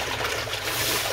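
Water pours steadily into a bucket while bee syrup is being mixed, a brief close splashing rush with no voices.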